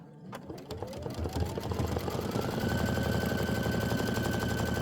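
An embroidery machine sewing an outline stitch runs with a fast, steady mechanical chatter and a rising whine as it speeds up, continuous and moderately quiet with no voices.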